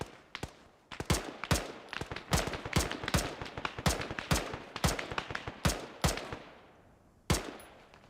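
Loud, rapid gunfire from a field training exercise: sharp shots in quick, uneven bursts that run almost without a break, then a pause before one last crack. No one speaks.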